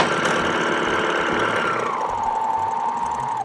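A serger sewing machine running with no thread, a steady loud mechanical whir and rapid needle chatter that holds for several seconds, slowing slightly in pitch near the end before stopping, with no talking.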